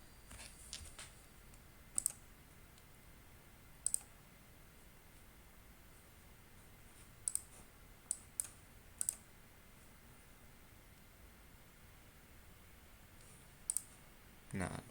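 Computer mouse clicking while working in SPSS statistics software: a handful of sharp, faint clicks spaced unevenly, some in quick pairs, over quiet room hiss.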